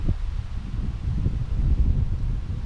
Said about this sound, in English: Sorry, the wind's blowing so hard now.